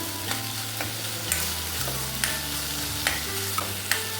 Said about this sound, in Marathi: आता 1-2 मिनिटं आपण ह्याला छान असं परतून घ्यायचं आहे